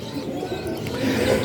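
Pigeons in a loft coo in low, continuous murmurs, close and fairly loud, with soft chirps mixed in and no talking.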